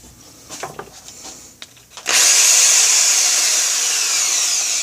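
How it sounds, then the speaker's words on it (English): A power drill boring holes while working on a Kydex folding cleaver sheath, starting after a few quiet clicks and handling sounds and then running loud and steady without pause to the end. "You know, I got to drill these out a little too."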